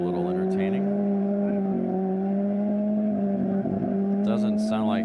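A blown gasoline engine in a mini pickup race truck at Speedweek runs roughly, a loud steady drone with uneven stumbling and some revving near the end, with talk over it.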